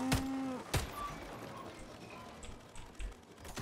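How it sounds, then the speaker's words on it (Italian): A cow in the video game Atomic Heart gives a short, low moo at the start, followed by sharp clicks and soft ambient game noise. "Guarda, una mucca."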